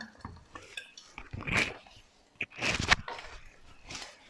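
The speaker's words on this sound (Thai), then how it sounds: "เสร็จทีนี้ก็ปิดฝาไว้แป๊บนึงนะคะ" A lid placed on a frying pan of eggs with Thai pork sausage, several metallic clatters and clanks in separate bursts, close by, with quiet gaps between.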